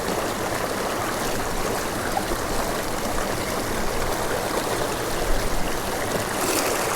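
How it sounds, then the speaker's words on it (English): A steady, full rush of water from a waterfall on a mountain stream in Southern Colorado, continuous and fairly loud with no speech. "Big waterfalls like that, they're pretty cool, they're pretty interesting"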